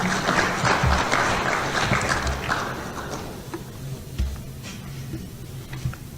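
Audience applause at an investment workshop on the Ghana Stock Exchange, a dense wash of clapping that is strongest at first and then thins and fades toward the end.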